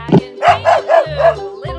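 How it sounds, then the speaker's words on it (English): Dog giving a rapid series of about five short, yappy barks close up, the last one clipped off, with no other sound around them. "Dog."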